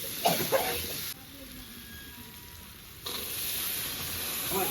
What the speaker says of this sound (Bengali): মশলাটা লেগে যাচ্ছে এবার আমি মটরটা ঢেলে দেবো